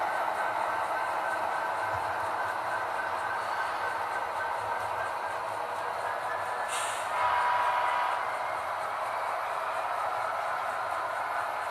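A BN model railroad train runs on its track with a steady whirring, rolling hum and faint metallic wheel noise, close and continuous, with a brief brighter squeal midway and no talking.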